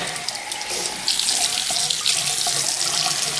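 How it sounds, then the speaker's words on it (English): Tap water runs steadily into a sink as a makeup brush is rinsed, a close, continuous splashing hiss that grows slightly fuller partway through. "I like to do a cool rinse at the end"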